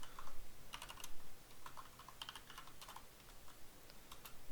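Rapid, light clicking on a computer keyboard, close and fairly quiet, in uneven bursts of keystrokes with short pauses and no talking.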